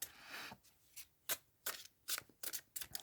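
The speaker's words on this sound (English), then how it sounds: "Let's have another shuffle." Tarot cards being shuffled by hand, a quiet series of crisp riffling bursts, about eight short flutters in quick irregular succession, close and alone.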